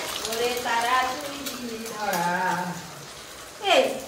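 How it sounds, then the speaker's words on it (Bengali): An egg dropped into hot oil in a pan sizzles and crackles softly under a voice talking throughout. "এই যে ডিমটা তেলের মধ্যে দিয়ে দিচ্ছি।"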